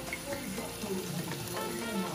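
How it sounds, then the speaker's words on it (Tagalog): Sweet homemade Kapampangan longganisa fries gently in a little olive oil, giving a soft, steady sizzle with faint crackles at low volume. "pwede na natin lagyan ng konting olive oil para maprito lang ng konti siya guys"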